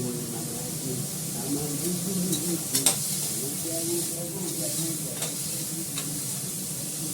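Onion frying in a pan ahead of the greens, for a vegetarian home dish: a steady, close sizzle with occasional stirring scrapes and light clinks.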